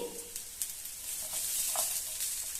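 Chopped green beans fry in a pan for lemon coriander soup, giving a steady close sizzle with a few soft stirring scrapes throughout, no talking.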